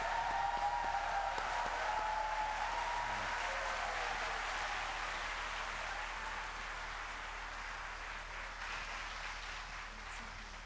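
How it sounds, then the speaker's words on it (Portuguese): Church audience clapping after an invitation to applaud, a broad, steady round of applause that slowly fades toward the end, with faint voices in the room. "Aplaudam, por favor."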